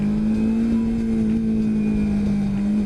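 A motorcycle engine in second gear holds a strong, steady drone close by at high revs, building toward an upshift around 7,000 RPM, loud and unbroken, with no voices.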